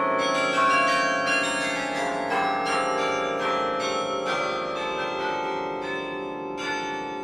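Large tower chime bells of the UT Tower ring out in a sustained, overlapping series of strikes, each tone ringing on and blending into a loud, resonant wash with no talking.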